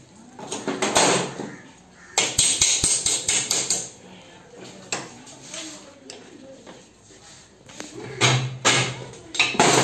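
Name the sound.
hammer tapping out Yamaha bike wheel axle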